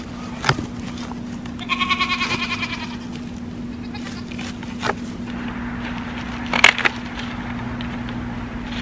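Goats bleat at a farm where bacon is being smoked, one clear run of harmonic calls standing out among a few shorter bleats and knocks, fairly close over a steady low hum.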